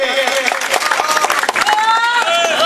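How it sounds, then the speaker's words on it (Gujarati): Applause and crowd noise welcoming Praveenbhai onto the stage at a political rally, a dense steady clatter of clapping throughout with raised voices and cheering mixed in. "જોરદાર તાળીઓથી પ્રવીણભાઈ ને ફરી વખત વધાવીએ"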